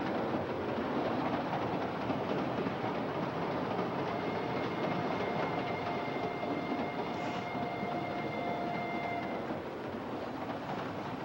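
A passenger train runs along the rails, a continuous broad rumble with faint steady tonal whine, moderately quiet and even throughout, no voices.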